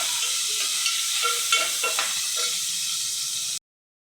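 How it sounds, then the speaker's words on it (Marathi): Tomatoes sizzle steadily with onions in a hot pan, a continuous close frying hiss broken by occasional soft stirring scrapes, heard alone until it cuts off abruptly. "टमाटर घालून घेते दोन मिडियम साईजचे टमाटर घेतले होते त्याला चांगलं परतून घेते"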